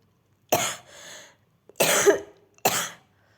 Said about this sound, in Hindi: सॉरी गाइस, जो मेरी थोड़ी खांसी हो रही है